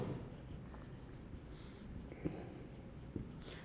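Pen scratching on paper while a note is written during a maths lesson, faint continuous scribbling with a couple of small taps, close and quiet.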